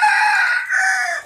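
A hill-breed (pahari) rooster crows once, loud and near, a single sustained call that dips briefly midway before trailing off.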